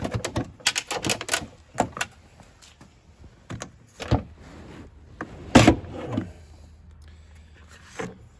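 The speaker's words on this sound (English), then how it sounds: "Just fighting the door lock a little bit." A series of sharp metallic clicks and clunks, irregular and close, as an Audi car door lock mechanism is worked and forced, with quiet gaps between bursts.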